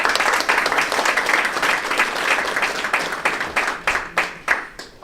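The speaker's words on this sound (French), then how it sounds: "Il faut l'applaudir." Sustained crowd applause at a political investiture for an FPI party representative in Montreal, many hands clapping densely and loudly, thinning toward the end into separate sharper claps.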